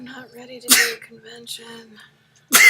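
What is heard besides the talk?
sneeze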